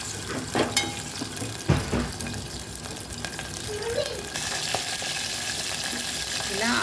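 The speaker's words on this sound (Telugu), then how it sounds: "ఆయిల్లో మంచిగా ఫ్రై చేయాలండి బ్రౌన్ కలర్ వచ్చే వరకు" Goat tripe pieces frying in oil in a pan, a steady soft sizzle running throughout with occasional stirring clatter, fairly close and moderate in level.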